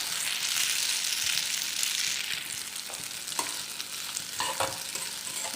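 Pasta is stir-fried in a pan over a low flame, a steady broad sizzle with scattered clinks and scrapes as it is tossed, close and continuous.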